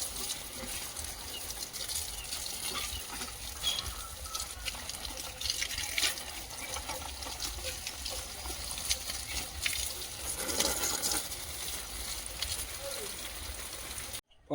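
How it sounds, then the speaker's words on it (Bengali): Water from a pump pours steadily through a narrow pipe in an outdoor yard, a continuous close gushing and splashing wash that holds throughout and stops abruptly at the end. "সরু পাইপে করে জল দেওয়া হচ্ছে তো"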